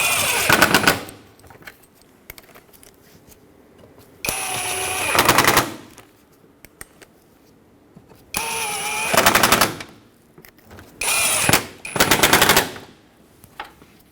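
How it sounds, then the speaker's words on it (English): Power tool, likely an impact wrench, driving the grille mounting bolts on a 2011-2016 Ford F-350 Super Duty pickup, heard as four loud, close, whirring-rattling bursts of one to two seconds each, separated by quieter pauses. "resecure the grill with all the mounting bolts"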